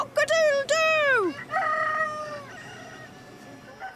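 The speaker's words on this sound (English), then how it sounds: "The cockerels crow and the chickens cluck." Cockerels crow in loud drawn-out calls, two near and overlapping, followed by quieter clucking from farm chickens in the background.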